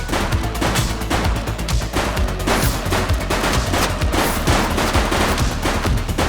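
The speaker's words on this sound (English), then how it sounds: "He's shooting!" Sustained rapid gunfire from the police video game The Precinct, dense overlapping shots and bursts rattling continuously and loudly for several seconds with no speech.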